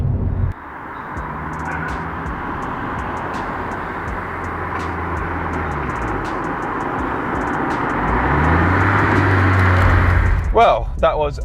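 Honda Integra Type R DC5, a twenty-year-old car with fresh OE bushings, drives steadily as the engine drones and rises in pitch through the gears; the sound is continuous and close, with tonal sweeps as revs climb and fall.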